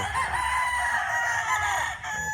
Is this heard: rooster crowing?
yes